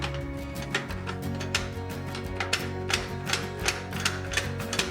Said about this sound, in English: I find if you just click it a few times with some cleaner in there, eventually it starts to loosen up